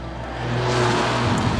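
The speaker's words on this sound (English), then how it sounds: "And you could never accuse a car that sounds like this of being sensible." A 2016 Mercedes A45 AMG five-door hatchback revving its engine, a loud, close, rising roar that swells and holds for just under two seconds, heard alone without talk.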